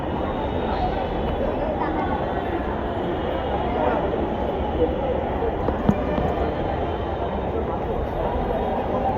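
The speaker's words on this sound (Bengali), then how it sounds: "দীপিকা, তুমি ফার্স্ট টাইম মেট্রোতে উঠবা" A Dhaka Metro Rail train rumbles along at a steady roar, with the clatter of wheels and occasional clicks, while people talk over the noise.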